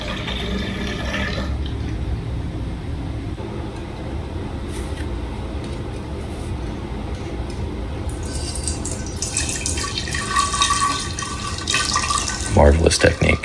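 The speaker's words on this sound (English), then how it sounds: "And here I am just pouring the wax on the inside to finish them off." Melted wax pours with a steady liquid trickle into the inside of smoked pottery to seal it, a continuous close splashing wash that brightens and grows louder toward the end.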